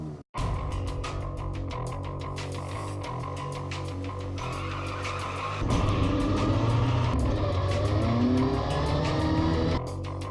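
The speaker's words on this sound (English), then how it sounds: "indigenously built Volkswagen Ameos ready to race here" Volkswagen Ameo race cars at full throttle at Chennai Motor Racetrack during the Ameo Cup, a loud steady engine roar close by that swells louder midway with tire squeal, no talk.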